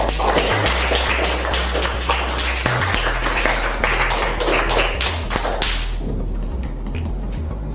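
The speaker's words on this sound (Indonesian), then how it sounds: "Sekali lagi tepuk tangan buat kalian semua." Classmates clapping hands together after group presentations in a classroom lesson, a dense, steady patter of many hands for several seconds that thins out near the end, with low background hum.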